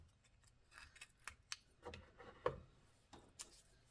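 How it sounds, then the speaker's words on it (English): Scissors snip string for a paper flower arrangement, making a handful of faint, crisp little clicks spaced irregularly with soft handling noise between them. "I clipped the string."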